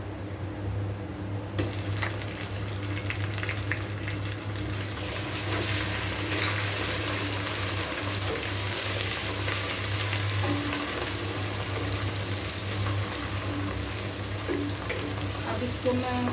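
Ginger garlic paste fries in a pan with a steady close sizzle and crackle over a low hum, while someone talks in between.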